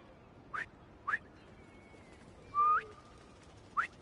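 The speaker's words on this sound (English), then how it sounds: "Try a whistle." Short, clear whistled calls sound in a Spider-Man 2 video game, with three brief chirps spaced about half a second apart, a longer sliding whistle, and a final chirp over a quiet, near-silent background.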